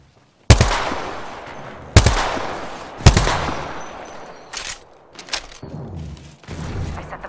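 Gunfire in the Apex Legends video game: three loud, sharp shots land in quick succession, followed by several softer, scattered bursts and thuds that trail off into a dense, echoing background.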